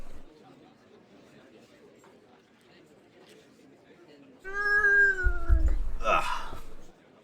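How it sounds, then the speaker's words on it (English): A cat gives a loud, drawn-out meow, then a rougher, harsher yowl near the end, close to the listener after several seconds of quiet room noise. "The cat is deciding to get into stuff again."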